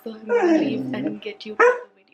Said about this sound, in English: That's my dog going berserk